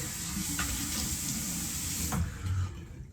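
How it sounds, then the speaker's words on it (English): A bathroom tap runs steadily as shaving alum is rinsed off the face after a razor shave, a close continuous splashing stream with a few brief clinks, no talk. "Alum's rinsed off."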